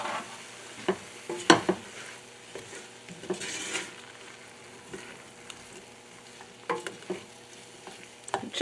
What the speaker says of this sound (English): And then now I'm putting in the mushrooms and the garlic.